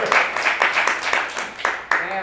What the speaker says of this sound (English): All right, so round of applause for Propcorn for the better story.